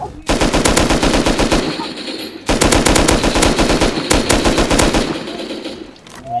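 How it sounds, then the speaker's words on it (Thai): Rapid automatic gunfire rattles in long loud bursts with brief gaps while players shoot at a tank in the survival game Rust, dense and close. "ไปยิงรถถังดีกว่า"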